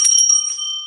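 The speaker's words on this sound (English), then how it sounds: "There's the bell." A small handheld bell rings once, loud and close, with a bright metallic strike that rings out and fades over under a second, heard alone in a studio.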